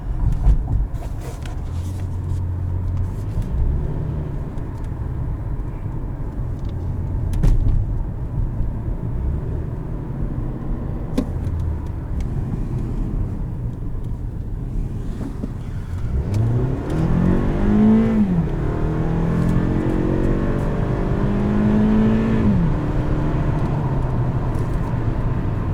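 A 2018 Toyota Camry LE engine idles with a low rumble, then revs up and down in a couple of throaty surges, close and fairly loud.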